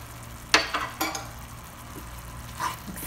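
A spoon stirs ketchup, salt, oregano and paprika powder together in a pan. It gives a few short scraping clinks over a soft, quiet background hiss.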